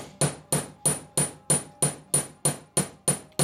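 A metal hammer strikes silver wire being shaped into chain links, ten evenly spaced sharp taps in a brisk steady rhythm, close and clear with no talking.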